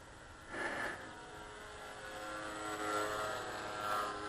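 A Dynam Grand Cruiser RC plane drones through the sky on a test flight after an earlier cut-out crash, its steady electric motor whine rising and falling in pitch as it passes at moderate distance, with no voices.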